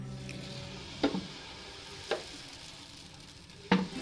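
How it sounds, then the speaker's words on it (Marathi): Green moong dal dosa batter sizzles softly on a hot griddle wiped with oil and water. Three sharp taps or scrapes of a spoon stand out above the low, steady hiss, close up with no talking. "आता आपण डोशाचे बॅटर टाकूया।"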